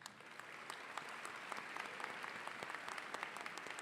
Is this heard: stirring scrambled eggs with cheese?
no